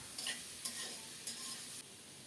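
Carrot and papaya sautéing in a covered pan, with a low steady sizzle and a few soft stirring scrapes at a quiet, close level.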